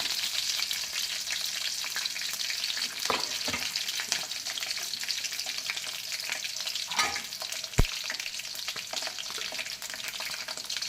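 Green chillies fry in hot oil, giving a steady, dense sizzle throughout, with a few stirring scrapes and one sharp knock partway through.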